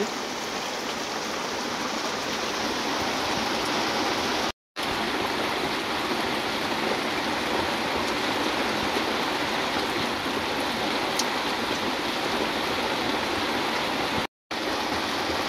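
Very heavy rain pours down as a dense, steady roar that stays loud and unchanging throughout, broken only by two brief silent cuts. No voices are heard.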